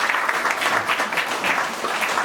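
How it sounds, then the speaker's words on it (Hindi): Group applause from participants at a corporate laughter yoga session for Gail India Ltd, a dense, steady patter of many hands clapping for about two seconds at even loudness. "जोरदार ताली हो जाए एक बार"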